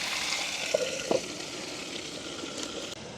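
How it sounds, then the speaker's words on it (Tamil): Raw mango pieces sautéing in a pan for a village mango curry, a faint, quiet sizzle with a couple of small clicks and bubbles, no one speaking. "மாங்காய் வந்து அப்படியே நல்லா வதங்கி கொண்டிருக்குது"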